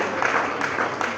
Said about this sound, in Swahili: Tumpee makofi mazuri.